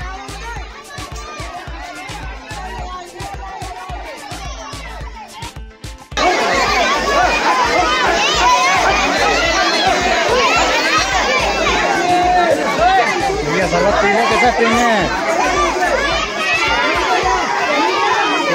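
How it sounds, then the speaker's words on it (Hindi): A dense crowd packed with shouting, playing children at a Ganga Dussehra bathing gathering in Farrukhabad; quiet, broken chatter gives way to a loud, continuous wall of overlapping voices and children's cries, with someone talking over it. "भीड़ कितनी है सारे बच्चे देखो"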